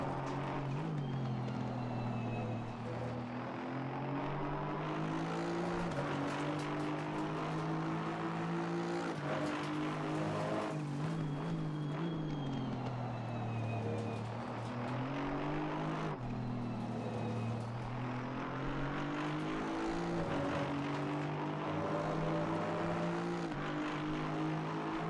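An Aston Martin V8 GT3 race car engine in Assetto Corsa Competizione at Misano, droning loudly and continuously through a full lap, its pitch rising and falling with gear changes and throttle, with no talking.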